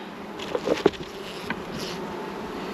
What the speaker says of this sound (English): Decent 4 frames of bees.